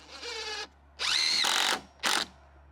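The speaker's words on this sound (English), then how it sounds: "I just ran a few screws to hold the board in place" A power drill drives a few screws into a board on a rear roof overhang, three bursts of whining motor with rising pitch as each screw seats, close and loud with short pauses between.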